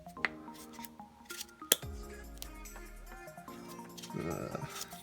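Snipping of weed-eater fuel line at an angle during a Troy-Bilt trimmer repair, a sharp single cut followed by faint handling rustles and small clicks, close and without talk.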